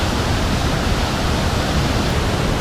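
Long Slide Falls in Wisconsin pours in a steady, loud, broadband roar of rushing water, heard close and unbroken with no voices.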